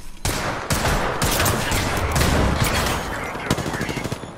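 Automatic weapon fire in the Apex Legends video game, a dense, loud, continuous burst of rapid shots with sharp individual cracks.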